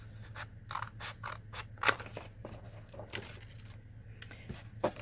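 Scissors snipping paper corners for a handmade junk journal, a series of sharp close-up crisp cuts and rustles at an irregular rhythm over a faint low hum.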